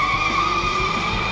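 A steady, loud engine drone with sustained high tonal whine and tire noise, a racing car roaring past close by with no talk.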